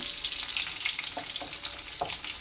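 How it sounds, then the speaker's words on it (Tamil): Onions drop into hot oil for an eggplant gravy and fry with a continuous bright sizzle, broken by a few soft knocks of a stirring spoon; close, steady and free of talk. "லைட்டாக வதங்கினோன்னு நம்ம வெங்காயம் போட்டுக்கலாம்"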